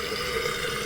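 A toilet tank fills with water, a constant hissing rush of flow that stays even and fairly close throughout.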